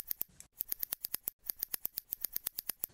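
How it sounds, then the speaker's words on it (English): Close, crisp scissor snips cutting mark-stitch threads in jacket fabric, a fast steady run of about twenty sharp clicks with a brief pause partway through and no talking. "So I'm going to cut all these to a length of 3 millimeters."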